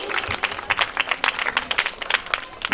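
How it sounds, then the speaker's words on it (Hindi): A crowd at an achievement award ceremony applauds in welcome, with dense, uneven clapping swelling and dipping for a few seconds, fairly close and steady throughout. "अपनी भरपूर तालियों में इनका खुशामदीद कहें।"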